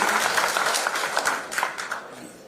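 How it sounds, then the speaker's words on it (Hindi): An audience at an agriculture products training session claps together, a dense burst of applause that stays fairly full and then gradually thins out. "तो उनके लिए एक बार जोरदार ताली होनी चाहिए"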